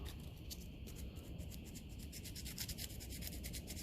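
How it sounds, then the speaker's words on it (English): Sandpaper rubs on a part of a 1957 Ferguson 35 TVO tractor in quick, faint, steady scratching strokes close to the microphone. "just may as well run a bit of sandpaper through it there"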